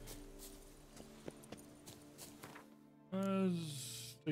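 Horse hooves clip-clop in a video game as a soft, steady run of close footfalls under quiet game sounds, followed by a louder rising musical tone near the end.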